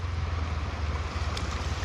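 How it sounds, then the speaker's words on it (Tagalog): Ocean waves at a beach wash in as a steady, loud, low rumbling surge with some wind buffeting, continuous and close, with no talk over it. "Alon."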